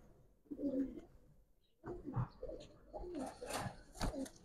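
A Giribaz silver pigeon with cream-colored eyes coos close by in a few soft, throaty bursts separated by brief pauses.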